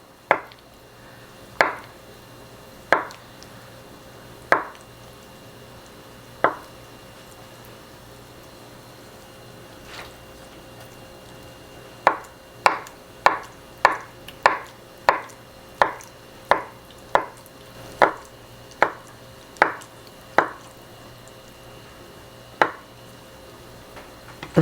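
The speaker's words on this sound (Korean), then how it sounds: "지금 반모를 이 정도 두께로 이렇게 썰어서" A knife chops tofu into strips against a cutting board: a few slow, spaced strokes, then a quicker, steady run of a dozen or so crisp cuts, up close and alone.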